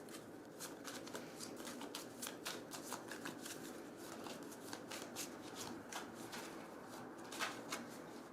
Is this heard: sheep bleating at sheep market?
no